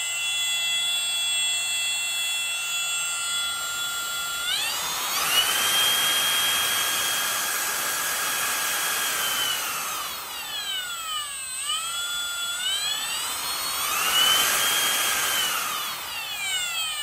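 A Milwaukee 2723 cordless router running smoothly, heard up close as a loud high-pitched motor whine that spins up, holds steady, dips and then rises again in two long runs, with no talk.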